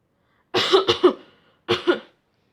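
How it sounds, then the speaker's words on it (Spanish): A man coughs hard three times in a quick cluster, pauses briefly, then gives two more rough coughs, close and loud with no talking. "Tosió mi pobre amigo"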